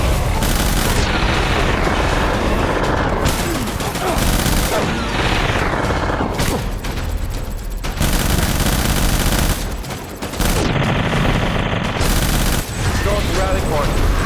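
Heavy gunfire and explosions in the video game Death Stranding, with loud automatic bursts and booms packed densely together, broken by a few brief lulls, with shouted combat voices mixed in.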